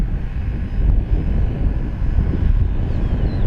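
FMS Corsair 1700mm RC model plane flying past on a windy day, its motor a faint, distant drone largely masked by low, rumbling wind buffeting the microphone.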